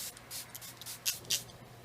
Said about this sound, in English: I'm going to spray this with my Smashbox primer water real quick